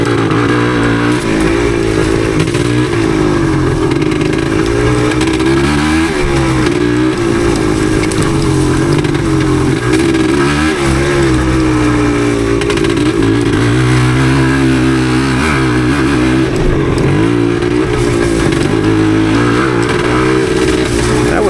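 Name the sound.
1977 Yamaha DT250 motorcycle riding off-road in the woods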